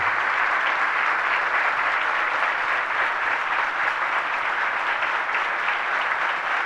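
A crowd at a Guru Purnima celebration applauds continuously, a thick, uniform roar of many hands clapping close by, sustained at an even level from start to finish.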